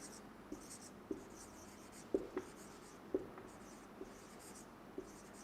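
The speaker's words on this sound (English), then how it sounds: "I will write here itself" Marker or chalk strokes on a board during a spoken English lesson, a series of short, faint taps and scratches spaced about a second apart over steady room noise.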